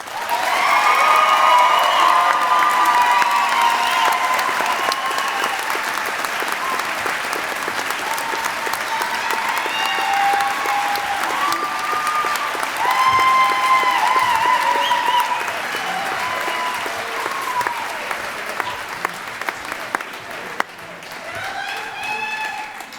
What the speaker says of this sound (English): can we have one more round of applause for the class of 2016?